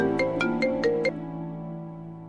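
A short electronic ringtone plays a bright five-note melody, then fades into a lingering hum; no one speaks.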